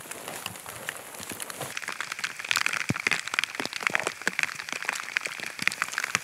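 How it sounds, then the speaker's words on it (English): Heavy rain falls during a hike on the Isle of Skye, a dense irregular patter of drops hitting nearby surfaces, close and fairly quiet, with no talking. "it started to tip it down with rain"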